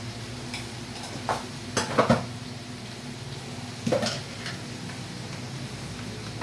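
Fish curry being stirred and fried in a pan just after turmeric powder goes in, with a steady low sizzle under repeated scraping and clinking strokes of the spoon, a few louder knocks standing out, no talking.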